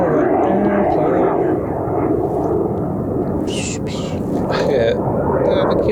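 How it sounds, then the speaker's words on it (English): An airplane passing overhead outdoors: a broad steady roar throughout, with faint occasional higher chirps on top. "There's an airplane going by, let me let it go."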